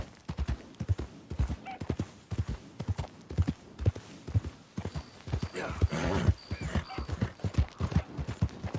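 A horse gallops in the video game Red Dead Redemption 2, its hooves drumming in a fast, loud, close rhythm that runs through the whole stretch, briefly thinning midway under a swell of wind-like noise.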